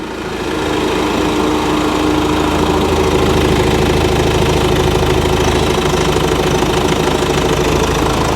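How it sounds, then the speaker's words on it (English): A Nissan Navara engine runs steadily at idle with a dense, continuous knocking rumble, close and loud, holding even throughout with no talking. "The engine sounds good."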